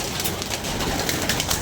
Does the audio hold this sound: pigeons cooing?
yes